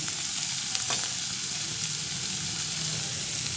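Whole cardamom pods and cinnamon sizzle steadily in a hot pan of nearly cooked spice masala for a lentil-dumpling curry, a continuous close frying hiss with a few faint clicks and no talking.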